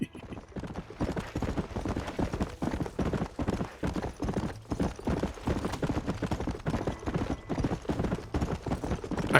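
Horse hooves clip-clopping steadily in the video game Red Dead Redemption, a loud, regular galloping rhythm running throughout with no voices.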